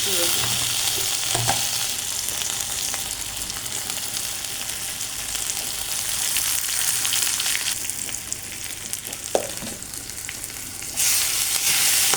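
Spices fry with dried ribbonfish and vegetables in hot oil, a loud constant sizzle with occasional scrapes and knocks of a stirring spoon, the hiss swelling briefly as more ingredients go in.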